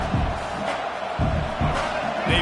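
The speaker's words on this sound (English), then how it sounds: "this crowd trying to help keep them there" Football stadium crowd at a college-level game, broad sustained roar rising in waves under the field noise, swelling loudly as fans try to keep the opponent pinned deep in their own end.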